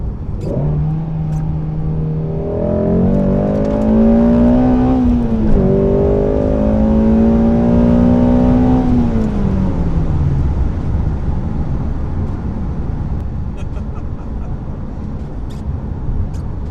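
A Shelby GT350 with a 5.2-liter V8 revs hard on a public road, its engine note climbing steadily through the gears as the car accelerates, then easing into a loud, steady drone of engine and road noise with no talking.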